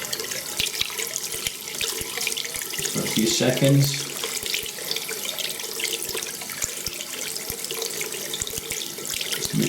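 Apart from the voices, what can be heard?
tap water running into a sink to soak a shaving brush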